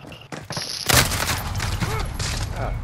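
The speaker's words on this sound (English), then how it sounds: "Someone's been coming out of the spawn and shooting." Gunfire from the video game Call of Duty: Modern Warfare crackles in a sustained, loud burst of rapid shots after a few brief game effect sounds.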